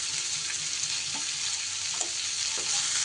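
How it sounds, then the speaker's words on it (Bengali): A finely chopped large onion fries in hot oil in a pan while it is stirred for egg thecha. The sizzle is steady and close, broken by soft scraping taps of the stirring. "এবার পেঁয়াজটাকেও একটু সুন্দর করে নাড়াচাড়া করে ভেজে নিতে হবে"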